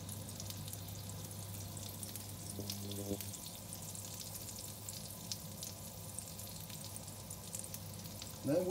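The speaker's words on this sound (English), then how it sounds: "And here we go in the frying pan." Swedish blood pudding frying in a pan, giving a soft, steady sizzle that runs throughout and stays faint and close, with a few light clinks and no talking.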